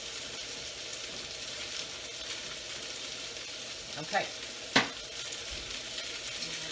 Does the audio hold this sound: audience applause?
no